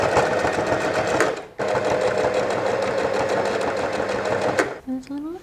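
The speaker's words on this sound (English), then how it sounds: "sew a line across my strap onto the front panel of the top" Sewing machine running steadily as it stitches a fabric strap onto the front panel of a self-drafted top, close and continuous, with a brief pause midway and a short voice at the end.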